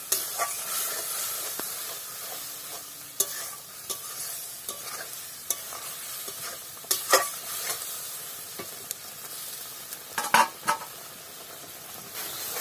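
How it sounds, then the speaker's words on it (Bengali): Spice masala for a half-ripe jackfruit curry being sautéed in a pan, a continuous close sizzle and hiss with repeated scraping and clinking strokes of a spoon against the metal, no voices. "এবার ভালো করে কষিয়ে নেবো"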